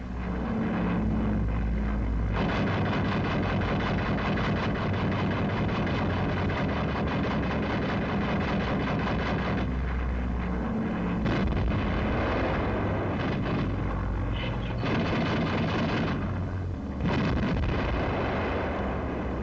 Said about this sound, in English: The enemy is now trying to get rid of its bombs as quickly as possible.